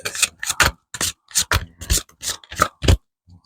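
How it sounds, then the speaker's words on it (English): An oracle card deck being shuffled by hand in a series of quick, close, crisp riffling bursts separated by brief pauses. "One more shuffle, come on."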